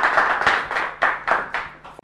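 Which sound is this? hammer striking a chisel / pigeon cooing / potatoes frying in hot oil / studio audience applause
studio audience applause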